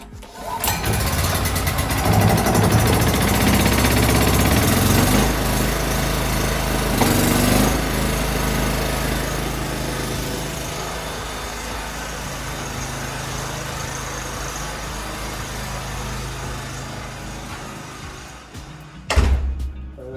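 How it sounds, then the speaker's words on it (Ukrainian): An OKAYAMA PT 3300 3.5 kW petrol generator engine runs steadily and loudly close by, with a broad continuous drone that eases slightly over time before a brief clunk near the end. "Тоді тут є заслонка повітря і запускаємо."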